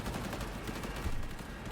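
Rapid bursts of gunfire crackle continuously, dense and loud, like automatic weapons in a Cyberpunk game firefight, with no talk over it.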